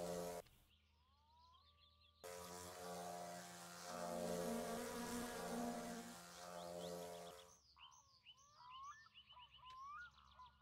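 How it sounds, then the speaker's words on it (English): Insects buzzing around a wasp nest in My Summer Car, a steady droning hum swelling for several seconds in the middle, with chirping bird calls before and after. "You see there's a wasp nest there?"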